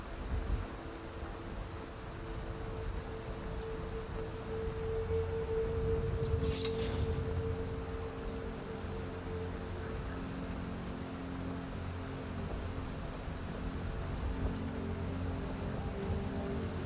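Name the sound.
rain falling in the video game Skyrim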